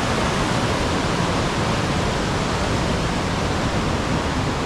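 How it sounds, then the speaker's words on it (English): A creek in full spate rushes steadily, a dense, loud, unbroken roar of water without pause or voices. "The creek is just absolutely flowing."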